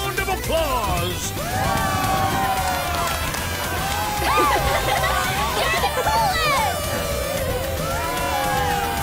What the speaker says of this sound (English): Let's give our worthy contender another thunderous round of applause!